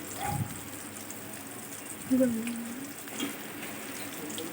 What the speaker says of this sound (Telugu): ఇలా ఒకటొకటిగా అన్నీ వేస్తూ లో ఫ్లేమ్లో వేయించుకోవాలి